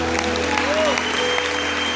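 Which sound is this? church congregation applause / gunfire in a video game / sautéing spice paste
church congregation applause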